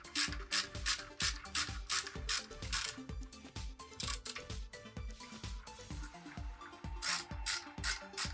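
Screws being driven into a mini PC case with the case's own screws, producing close, rapid ratcheting clicks in steady repeated bursts.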